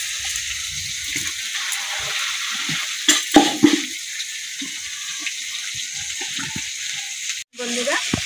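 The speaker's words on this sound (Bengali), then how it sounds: "বন্ধুরা, পেঁয়াজ আর টমেটো ভেজে নিয়েছি" Onion and tomato frying in oil in a home kitchen, a steady close sizzle with scattered spoon scrapes and taps over it and a brief break near the end.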